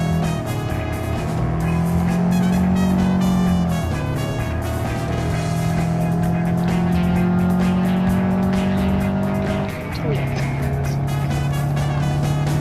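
Car engine in BeamNG.drive, a car driven without shock absorbers, braking hard and dropping a gear, with a steady loud engine drone whose pitch falls and shifts around four and ten seconds.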